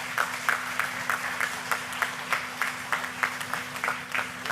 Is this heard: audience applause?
yes